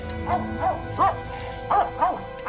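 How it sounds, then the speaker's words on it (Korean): A white dog barks five times in an uneven rhythm, close and fairly loud, with a faint low background hum between the barks. "그렇게 강아지를 발견하고 집을 조사해보는데 흰색 강아지네"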